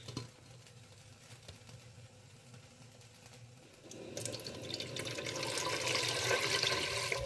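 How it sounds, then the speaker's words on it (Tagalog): A little water poured into a cooking pan while making a sweet and sour German dish: quiet background at first, then a rising hissing, splashing pour that builds and continues to the end. "Tapos lagyan po natin mga lalabs ng tubig. Kunting tubig po."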